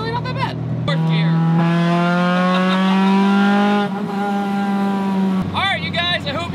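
K24-swapped Acura Integra pulling hard in fourth gear, a loud, close engine note climbing steadily in pitch over several seconds with a brief break near the start and another near the end, like shifts.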